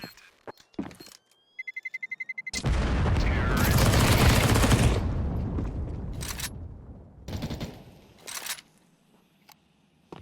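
FAMAS rifle fire in Counter-Strike 2 comes as a quick rattling string of shots, then a loud blast and rushing roar, followed by several sharp single reports spaced out over the clip.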